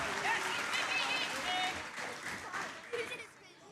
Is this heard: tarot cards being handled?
no